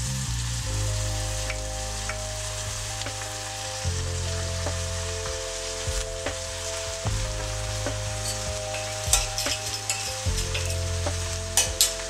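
Finely grated carrot and celery stew in a pan with a constant sizzle, stirred by occasional scrapes, while a steady low musical drone plays underneath.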